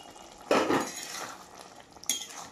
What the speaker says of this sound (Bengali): এইভাবে আস্তে আস্তে করে আমি চালাবো, নাহলে মাছগুলো ভেঙে যেতে পারে